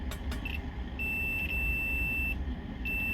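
A multimeter continuity tester beeps on darkened circuit board vias in a Game Gear under repair: short chirps, then a long steady tone, then another tone starting at the end, over a low background hum.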